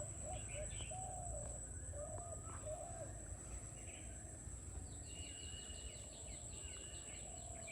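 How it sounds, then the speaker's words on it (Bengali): Birds call in a national park, with soft repeated cooing and scattered chirps above a faint, steady breeze. The calls stay quiet and somewhat distant throughout. "মাঝে মাঝে ঝিরঝির বাতাস এবং পাখির কলতান সত্যি মনোমুগ্ধকর।"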